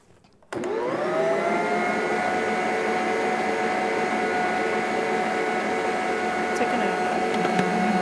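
An electric stand mixer kneads cinnamon roll dough, switching on abruptly after a moment of quiet and then holding a loud, steady whirring motor drone with a faint rhythmic labouring underneath.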